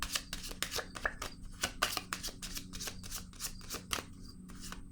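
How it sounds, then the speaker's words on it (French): Tarot cards handled and set down on a table, a quick series of close, crisp flicking and slapping taps in an uneven rhythm. "Je vais déposer une carte ici."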